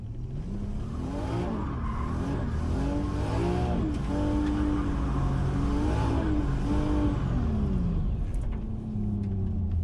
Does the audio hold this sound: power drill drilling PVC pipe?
no